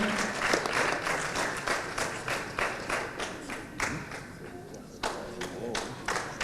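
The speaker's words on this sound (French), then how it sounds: "c'est l'œuvre de Madame Wilfried Jeanne, qu'on applaudit très fort" Applause from the audience at a French spelling championship as Madame Wilfried Jeanne is honoured, a dense sustained clapping crowd with a few sharper claps standing out.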